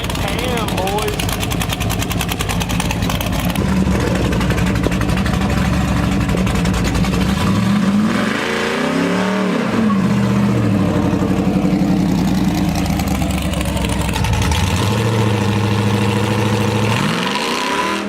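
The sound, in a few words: Camaro big cam V8 engine idling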